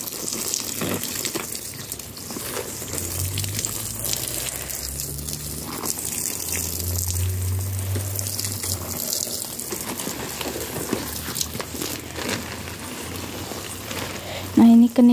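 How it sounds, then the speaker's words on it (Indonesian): Garden plants such as chili seedlings are watered on a sunny morning in a small home garden, with a continuous hiss of running water that stays moderately close. A few low tonal sounds pass beneath it. "aku siram-siram dulu teman-teman."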